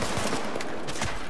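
Rifle fire in the video game The Division, a quick cluster of shots that blends into a steady wash of combat noise, fairly loud and heard without talk.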